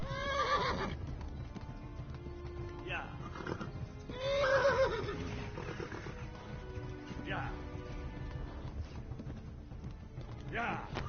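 A horse in the Kingdom Come Deliverance video game whinnies and neighs repeatedly over steady clip-clopping hooves, with a person talking loudly over it throughout.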